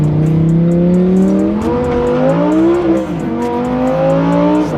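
A rear-wheel-drive car holds a big drift, its engine droning loud and close at high revs with pitch rising and wavering, plus light tire scrabble throughout.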